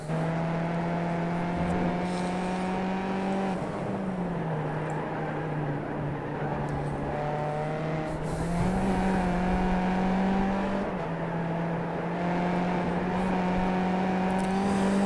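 A Skip Barber race car laps Virginia International Raceway North in iRacing, its engine holding a steady buzzing drone that dips and climbs through shifts and corners, heard alone and close.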